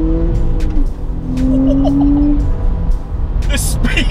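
A 490 bhp Audi B5 RS4 estate car accelerating in second gear, engine note climbing steadily under cabin noise, with a person talking intermittently over it.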